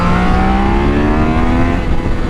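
A Triumph Daytona 660 supersport motorcycle engine drones steadily while riding, its revs climbing smoothly in a loud, close, continuous tone with no talking.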